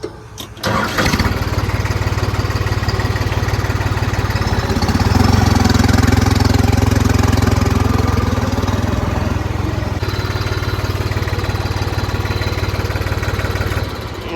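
A New Holland 5620 tractor engine starts with a sharp catch and then runs steadily, loud and close, at a constant throbbing idle with a slight rise in the middle.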